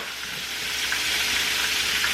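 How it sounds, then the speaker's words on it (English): Catfish frying in hot oil gives a steady, dense sizzle with soft crackles and pops, close and even for a couple of seconds, no voices. "when I'm frying fish, y'all, I just flip it over with a fork"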